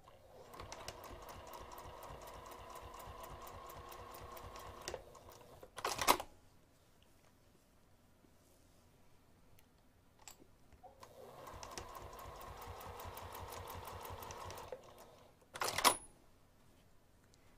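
A sewing machine stitches down a pleat on a side pocket in two steady, quiet runs of rapid mechanical chatter. Each run ends with a sharp click or thump, followed by a pause.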